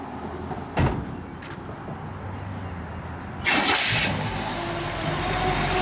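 A 1963 Chevrolet Impala with a 300-horsepower 327 V8 cranks and fires up, a short starter whir followed by a brief earlier door thud, then the engine catching and settling into a steady close idle.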